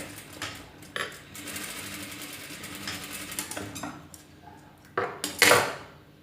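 Sewing machine running in quick mechanical bursts while stitching thread piping onto fabric, with clicks and handling knocks between the short runs of stitching.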